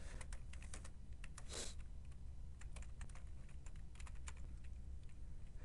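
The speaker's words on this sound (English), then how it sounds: "And so I'm going to type in my text to start this." Steady keystrokes on a computer keyboard while entering text, a quiet, even patter of clicks running throughout with no talking.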